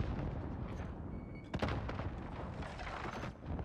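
Gunfire in a Call of Duty: Modern Warfare 2v2 Gunfight tournament match, a dense stream of shots and impacts with a sharper burst near the middle, steady and fairly loud throughout, no talk.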